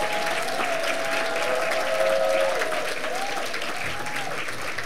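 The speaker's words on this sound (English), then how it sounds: "Let's give them a round of applause" A luncheon audience applauds scholarship mentors, standing as they clap: a dense, steady wash of many hands across the whole stretch, with faint tonal sounds running beneath the clapping.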